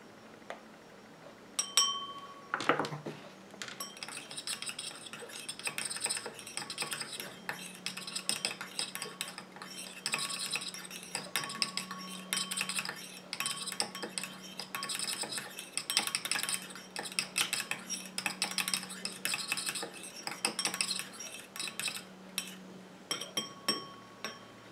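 Homemade lipstick mixture being stirred in a small dish, a quick, continuous run of light metallic clinks and scrapes from a utensil against the dish, close and fairly quiet.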